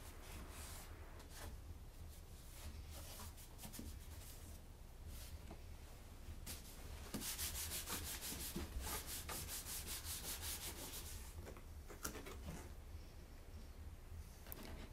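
Brushing grime and decomposing plastic residue off the electronics of an old 1984 TV, a steady dry rubbing and scrubbing that continues close and fairly loud throughout, with no talking.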